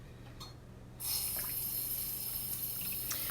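A small measuring spoon rinsed under a running kitchen tap, a steady close stream of water starting abruptly and continuing alone.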